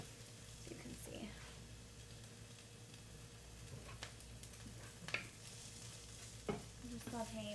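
Peppers being sauteed in a pan give a soft, steady sizzle at close range, with occasional stirring scrapes and clinks, while a person talks quietly over it.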